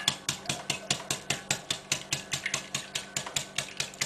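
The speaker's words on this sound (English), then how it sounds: "Just keep whisking it." Egg and milk whisked by hand, a steady fast run of sharp, regular clicking strokes against the bowl, close and even, with no talking.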